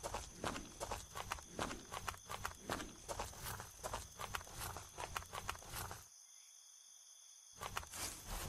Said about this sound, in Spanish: Son mis pisadas.